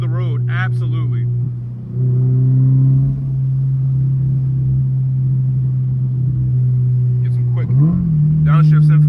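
A 2023 Toyota GR86 Premium's engine holds a steady mid-pitched drone from inside the cabin, with a short rise and a quick blip near the end as it downshifts. Loud and close throughout.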